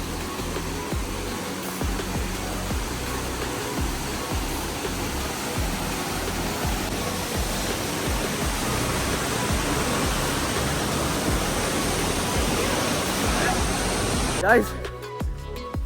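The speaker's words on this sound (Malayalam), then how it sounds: "പാറ തന്നെ ക്രിയേറ്റ് ചെയ്തിട്ട് അതിൻ്റെ ഇടയിൽ കൂടെയാണ് വെള്ളം ഒഴുകുന്നത്" St. Nectan's waterfall, water rushing and flowing between rocks, a dense, steady roar heard close up for the full length, with a brief bump of handling noise near the end.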